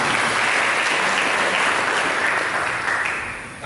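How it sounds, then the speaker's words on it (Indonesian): A church congregation gives applause, a dense, loud burst of clapping from many hands that holds steady and then tapers off at the end, with no talking. "kita berikan tepuk tangan"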